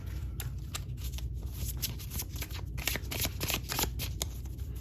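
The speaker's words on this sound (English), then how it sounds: "Let's pull an oracle card here." Oracle cards shuffled by hand for a reading, a quiet, continuous papery riffling with rapid flicks running the whole time, close and alone with no talk.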